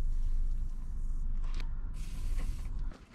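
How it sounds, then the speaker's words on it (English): An aerosol can of WD-40 hisses in several bursts as lubricant is sprayed onto seized exhaust bolts under a Subaru WRX, with a steady background hum and a few faint clicks. "first step is spray everything with WD-40 because more than likely it's Barbie seized"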